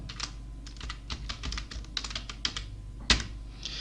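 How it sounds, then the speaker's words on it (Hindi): Quick, irregular keystrokes clatter on a computer keyboard during form data entry, including presses of the Tab key, with one sharper, louder key strike near the end and no talking. "इसके बाद हमने टैब की प्रेस की।"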